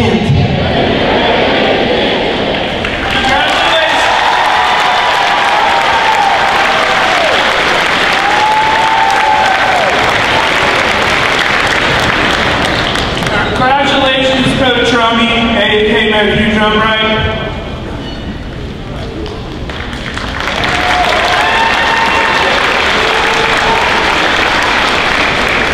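A crowd at the 2022 State Summer Games opening ceremony applauds athletes, with continuous dense clapping and cheering throughout and voices over a loudspeaker rising above it midway.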